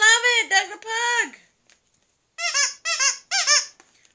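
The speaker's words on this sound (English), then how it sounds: "This is a squeaky toy" A squeaky dog toy printed with a pug is squeezed in two bursts: first three long, wheezing squeaks, then a short pause, then three quick, sharp squeaks close to the listener.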